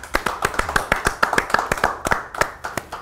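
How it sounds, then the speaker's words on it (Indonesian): An audience claps for a guest sculptor at a community gathering, producing a brisk run of sharp, fairly close handclaps that last about three seconds without any speech over them. "Tepuk tangan."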